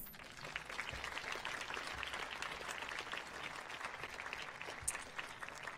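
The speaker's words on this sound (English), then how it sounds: "Please join me in giving Lonel and Lupita Jimenez one more round of applause." Round of applause from the audience at a college transfer achievement celebration, steady clapping filling the hall throughout at a moderate, somewhat distant level.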